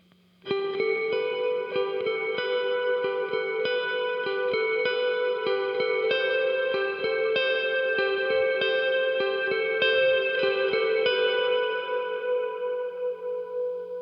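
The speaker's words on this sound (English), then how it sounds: "So really prominent reverb, really splashy sounding." Electric guitar played through a Big Sky reverb pedal set bright and washy, a steady run of picked notes blooming into a long, shimmering tail that fills the space alone without any talking.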